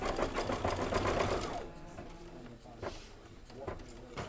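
A sewing machine stitching a Kimberbell embroidery design hums in a fast, loud, steady run, then drops to a quieter stop-and-start whir while a person talks nearby.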